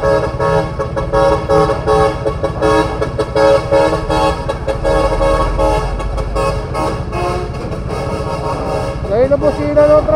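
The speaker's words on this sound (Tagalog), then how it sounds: "Ngayon na busina ng truck" A loud, sustained truck horn blares repeatedly at close range over rumbling traffic noise on the NLEX connector road, with someone talking briefly underneath.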